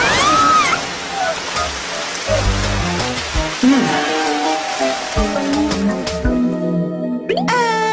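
A waterfall pours in a cartoon bathroom, making a steady rushing hiss throughout while characters speak and music and sound effects play over it.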